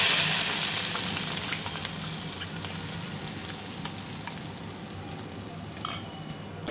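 Spiced oil tempering poured into a simmering green pea gravy, sizzling in a steady, loud hiss that fades slightly over the seconds, with a few small pops and spatters near the end.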